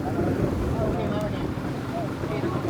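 A tour boat cruises on clear sea water near Poda Island in Krabi, Thailand, with a steady engine drone and wash of water under heavy wind buffeting the microphone.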